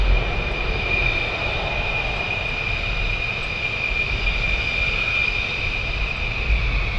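F-15E fighter jets departing RAF Lakenheath make a continuous loud, steady roar with a bright whine running through it, heard from a distance and without any pause.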